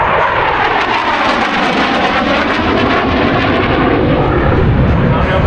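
A Harrier jet's Rolls-Royce engine roars loud and close during an air show demonstration at MCAS Cherry Point, a dense, sustained broadband blast with a gently shifting tone and no pauses.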